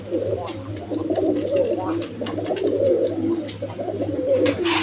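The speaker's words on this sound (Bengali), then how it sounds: "এখানে এক পেয়ার বোম্বাই কবুতর আছে দেখেন এটা মূলত দেশি বোম্বাই" Bombay pigeons coo steadily in low, throaty murmurs, a continuous soft burbling nearby, with a person talking over it.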